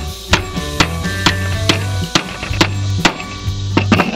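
Repurposed hardwood boards are hammered together for a goat stand, sharp close wooden blows landing about every half second, some in quick pairs, over a steady low background hum.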